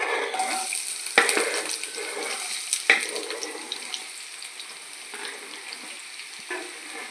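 Onions frying in hot oil, a steady close crackle and hiss with a few sharper clinks of a utensil, no voices.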